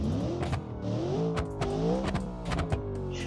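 A racing car engine with hard racing suspension and carbon ceramic brakes, shooting exhaust flames in the BeamNG video game, revving loudly with rising and falling pitch and sharp popping crackles breaking through.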